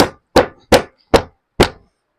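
A hammer strikes a piece of factory mattress five times in a steady rhythm, each blow a sharp, loud thud that quickly decays into silence, close up.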